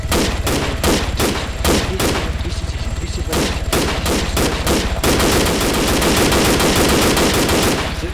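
Rapid bursts of automatic gunfire in the video game Arma 3 rattle loudly and close, starting in short volleys, then merging into a sustained stream of shots.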